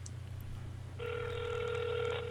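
A single telephone ring tone sounds over a low electrical hum, a steady electronic buzz starting after a moment and lasting over a second.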